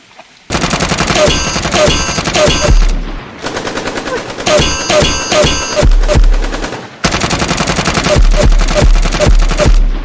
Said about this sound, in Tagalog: pagputok ng baril ko, may katumbas na buhay